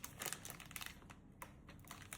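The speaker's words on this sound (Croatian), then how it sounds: "Režem Choco Sticks." Choco Sticks being cut for a dessert in a home kitchen, a quick series of close, crisp snapping and crunching cuts with rustling of packaging, no talk.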